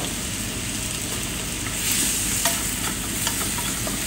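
Teriyaki-coated food sizzles and fries steadily in a pan, a continuous close hiss with occasional stirring scrapes and small pops.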